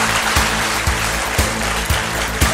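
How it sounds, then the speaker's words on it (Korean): Audience applause welcomes the company chairman onto the stage at an Atomy corporate lecture, a steady wash of clapping with a regular pulsing beat and tonal music running underneath. "큰 박수로 맞이해 주시기 바랍니다"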